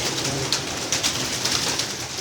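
Male pigeon cooing close by, a steady soft throaty burble under a constant outdoor background.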